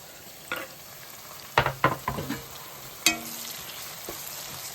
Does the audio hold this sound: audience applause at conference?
no